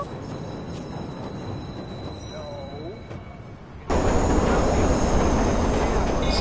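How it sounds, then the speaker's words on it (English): An underground subway train in the video game Watch Dogs rumbles and rattles loudly, with faint wheel squeals, then swells abruptly as it pulls into the station. "Southbound train, arriving shortly."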